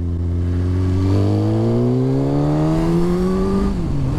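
A Suzuki K8 GSX-R1000 motorcycle engine revs loud and close, its pitch climbing smoothly for several seconds before dropping back near the end, with no voices.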